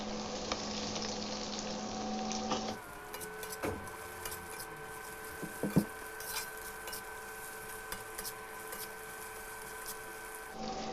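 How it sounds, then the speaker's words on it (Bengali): Cubed capsicum frying lightly in a pan for chilli fish, giving a soft, steady sizzle with occasional faint clicks and stirring touches, fairly quiet and without talk. "দিয়ে দিচ্ছি কিউব করে কেটে রাখা ক্যাপসিকাম এখানে একটা বড় সাইজের ক্যাপসিকাম নিয়েছি ক্যাপসিকামটাকে হালকা করে ভেজে নিতে হবে"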